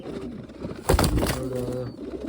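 Pigeons in a pigeon house coo in low, soft throaty bursts close by, mixed with rustling, while a person talks over them.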